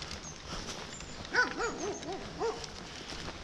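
Distant hunting dogs chasing rabbits give a short series of wavering, howl-like bays, faint against a quiet outdoor background.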